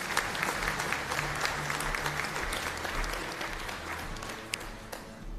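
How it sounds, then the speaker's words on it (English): A graduation ceremony audience gives the graduates a round of applause, dense continuous clapping at moderate loudness with a faint low hum beneath and a few sharper individual claps standing out. "A big round of applause for the graduates, please."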